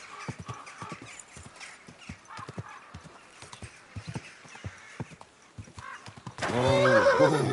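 Horse in the video game Kingdom Come: Deliverance 2, steady clip-clop of hooves walking at a moderate pace, then a loud close neigh rising suddenly near the end.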